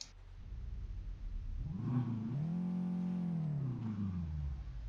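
A Renault Symbol engine in Euro Truck Simulator 2 idles low, then revs up into a rising roar, holds at high pitch, and falls back down, heard close and alone.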